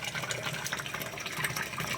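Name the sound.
strong stream of water filling a container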